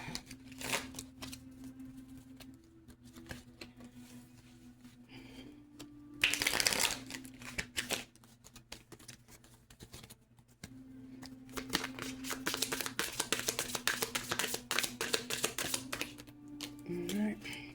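A deck of oracle cards is shuffled in close, crisp riffling bursts, one sharp flurry followed later by a longer stretch of rapid flicking, over a faint steady hum.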